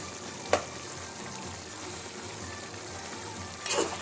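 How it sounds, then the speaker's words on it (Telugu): Masala powder stirred into mutton curry frying in a pan: steady soft sizzling throughout, with two brief scraping clicks of the spoon against the pan, fairly quiet and close, with no voices. "మొత్తం ఒకసారి మసాలా పొడి అంతా కర్రీకి పట్టేటట్టు మొత్తం ఒకసారి కలుపుకోండి"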